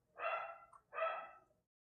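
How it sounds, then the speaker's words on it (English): A dog barks twice in the background, two distinct, fairly faint barks about a second apart with quiet between them. "I'm sure you guys can hear the stupid dogs in the background."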